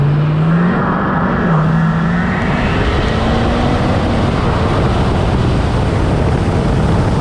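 A stage 4 800 hp 6.7L Powerstroke diesel truck accelerates hard, a loud sustained engine roar with rising and shifting drone tones, constant and up close, no voices.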